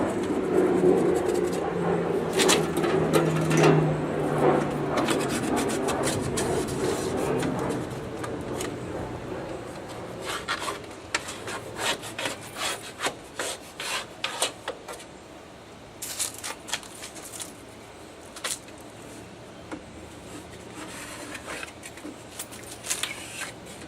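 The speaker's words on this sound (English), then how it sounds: "Get off what I can with the putty knife." Putty knife scraping an old insulation gasket off a 270 smoker, a run of dry, uneven scratches and rasps at close range, with a duller rumbling noise in the first several seconds.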